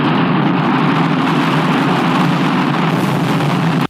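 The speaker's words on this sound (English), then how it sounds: "that was the sound of a rocket," A rocket trying to take off and exploding: a loud, dense, continuous roar of broadband rumble, close and overwhelming, cutting off abruptly at the end.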